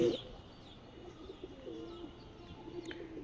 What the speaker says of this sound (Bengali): আর এই যে দেখেন এইখানে কিছু কবুতর আছে